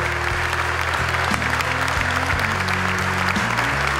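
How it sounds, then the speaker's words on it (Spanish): Loud audience applause and cheering at a Racing Club television event, steady dense clapping filling the space, with voices mixed into the crowd. "Fuerte el aplauso."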